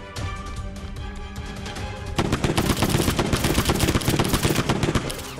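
Rapid bursts of video game gunfire, crackling and dense, start at moderate loudness and grow into a louder sustained volley of close shots.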